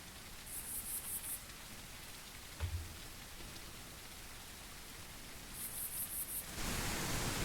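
Simulated regular rain from a sky-simulation program: a steady, even hiss of rainfall that holds from start to finish and grows a little denser and brighter toward the end, with no voices.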